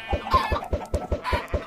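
Chickens in a Minecraft Feed The Beast modpack farm, near a sheep pen, cluck in a steady run of short, evenly spaced clucks, close and clear with no talking.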